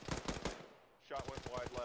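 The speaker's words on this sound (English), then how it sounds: "Shot went wide left." Rapid bursts of gunfire aimed at a tower in a military video game, a quick clattering volley, a short pause, then another rattling burst, fairly faint.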